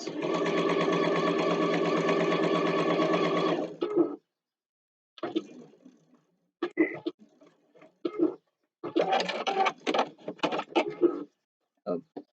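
A sewing machine stitches the seam of a fabric scrunchie, running steadily and loudly for about four seconds before stopping, followed by intermittent handling clatter and rustling.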